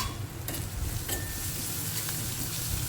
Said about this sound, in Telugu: ఉల్లిగడ్డ మంచిగా వేగిందండి.